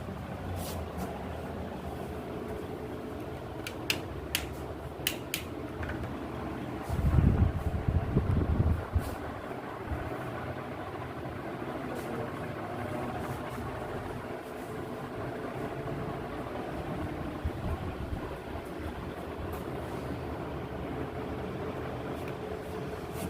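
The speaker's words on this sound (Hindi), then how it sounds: "दूसरा ये पंखे का शोर" An electric fan runs indoors in a home shop, a steady low whir and hum that holds constant throughout, with a brief louder knock and a few faint clicks partway through and no talking.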